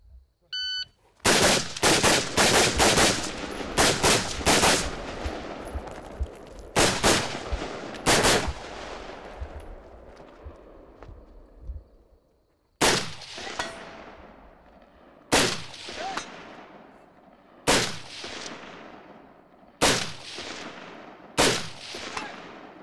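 Gunfire on a shooting competition stage: a rapid opening string of loud, sharp shots, then after a short pause more evenly spaced single reports, each crack ringing out close and alone.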